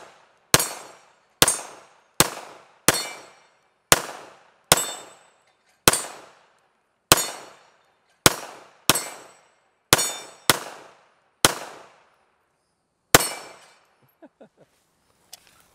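A Taurus G3 pistol firing at a range: about fourteen loud, sharp shots, mostly in quick irregular pairs and singles, each ringing out briefly, followed by a few faint clinks.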